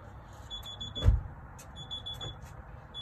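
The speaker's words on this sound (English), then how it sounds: "Why is it still beeping and flashing?" A new car's alarm chirps with a repeated high-pitched electronic beep in short bursts, with a single louder thump midway, outdoors over low background rumble.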